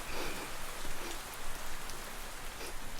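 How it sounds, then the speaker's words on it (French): Rain falls steadily outdoors on a grey day, a continuous soft hiss with drops pattering on surfaces, moderately quiet and without talk. "Il pleut, il fait gris"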